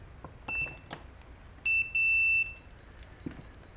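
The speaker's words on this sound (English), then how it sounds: "multimeter, set this to continuity" A multimeter in continuity mode beeps in short electronic tones while probing pins on a car radio's aux port wiring: two brief beeps, then a longer pair close together, clear over faint handling noise.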